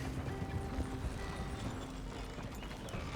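Horse hooves clip-clop faintly and steadily in Red Dead Redemption 2, a soft walking rhythm under a low ambient bed.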